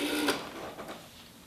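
A GPO 700 series rotary telephone dial whirs and clicks in one short, close mechanical burst as a number is dialled, then trails off into quieter ticking.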